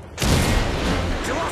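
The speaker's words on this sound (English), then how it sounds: "Friendly Predator missile inbound." A Predator missile strike in Modern Warfare 3 bursts in with a sudden loud, dense blast that rumbles on for over a second, with radio voice chatter mixed in.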